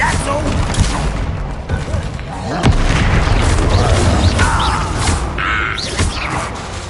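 Bombarda spell explosions in the video game Hogwarts Legacy go off as loud, repeated booming blasts inside a dense, chaotic battle mix, with a voice breaking in at times.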